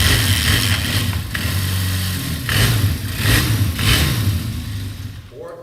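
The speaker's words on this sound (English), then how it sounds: "If you ever kill the battery, you can just kickstart it like this." A 1976 Kawasaki KZ400 motorcycle engine is kickstarted and runs, a medium engine rumbling and revving in uneven surges close by, with no talking.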